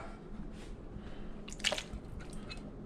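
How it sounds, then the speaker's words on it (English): Tomatoes poured into a crawfish pot give soft wet squishes and drips, with a brief louder splash midway over a low background hum. "Pour the tomatoes in there just like that right there."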